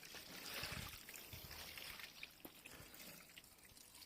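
Water tipped out onto a resin driveway runs briefly and then soaks through the porous surface, making a faint, steady trickling and dripping close by with no talk.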